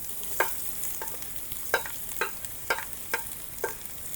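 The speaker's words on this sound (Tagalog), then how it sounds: "pwede po natin pagsabay-sabayin itong luya, bawang, sibuyas sa pagigisa" Ginger, garlic and onion are sautéed together in oil in a pan, giving a faint sizzle with a handful of sharp stirring scrapes at a loose rhythm and no talking.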